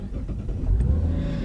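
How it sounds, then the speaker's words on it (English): A car engine turns over and settles into a steady low idle rumble, close and fairly loud with no talking. "it's gonna start up"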